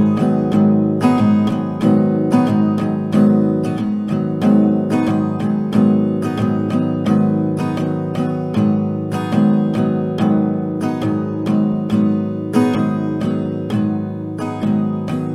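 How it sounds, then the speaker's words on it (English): Acoustic guitar strumming pattern for a song played in repeated rounds of down and up strokes, a steady close rhythm with short breaks between strums and no talking. "So a couple rounds of it will sound like this."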